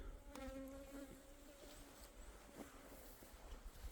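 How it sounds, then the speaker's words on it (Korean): Native Korean honeybees buzz steadily at their hive on a cold December day, a close, continuous insect drone with a few brief louder passes from bees flying near. "저 벌 봐요"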